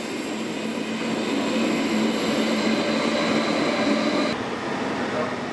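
Swiss trains running along railway lines, a steady broadband rumble and rush that holds loud and even throughout, easing slightly near the end.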